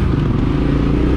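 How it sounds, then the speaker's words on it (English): A CFMOTO CForce 400 ATV engine bogging down at low RPM gives a loud, steady, rough low drone that holds constant for a brief moment with no voices. "it seems like the motor's very bogged down"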